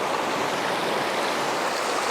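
A small stream of water runs out across a shoreline channel at sunrise, a steady close rushing wash with no break and no voices.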